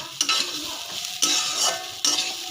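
Khichuri frying in a pot and stirred with a spoon, a continuous close sizzle with three sharp scraping strokes at roughly one-second intervals and no one talking.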